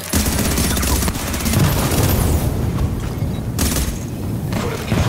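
Sustained gunfire from The Division strikes a defensive fortification, a dense, loud barrage of shots and booming impacts running almost without pause.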